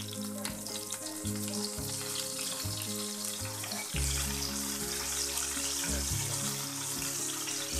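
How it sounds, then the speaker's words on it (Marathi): Crispy Bombay duck fish fry loudly in hot oil in a pan, with a dense, steady sizzle and crackle heard up close, while a low mechanical hum pulses underneath. "अशा पद्धतीने आपल्याला फ्राय करून घ्यायचं।"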